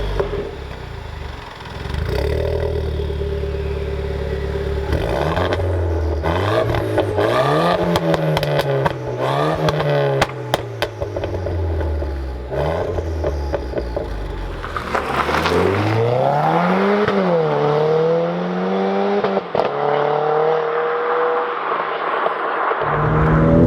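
A 257bhp track-spec Renault Clio RS is started and driven, its loud engine rising and falling through repeated revs and gear changes, with a rough idle and rumble between pulls, heard close up.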